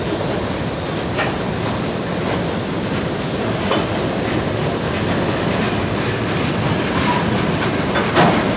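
Norfolk Southern freight train NS 122, led by locomotives NS 9679 and NS 9851, rolls through the 9th Street railroad crossing in Lafayette, Indiana, a loud, steady rumble of wheels and cars with faint clickety-clack throughout.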